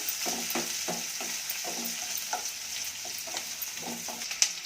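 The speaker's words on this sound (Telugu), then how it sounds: "తర్వాత ఉల్లిపాయ ముక్కలు, వేసి కొంచెం సేపు వేయించుకోవాలి" Onion pieces frying in a pan for Bombay saagu, a constant close sizzle broken by a regular rhythm of spatula scrapes and stirring strokes.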